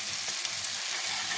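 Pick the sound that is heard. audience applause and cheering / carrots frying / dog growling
carrots frying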